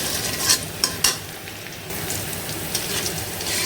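Onions sizzle and fry in a pan for biryani, left slightly raw, while a spoon stirs them with a few sharp scraping clacks early on, then a steady close crackle.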